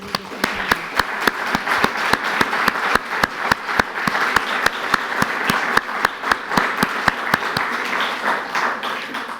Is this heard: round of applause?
yes